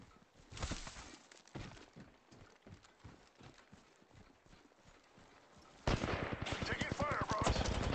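Video game gunfire during a tournament match, irregular rapid shots pattering at moderate loudness, then a sudden louder, denser burst of automatic fire near the end.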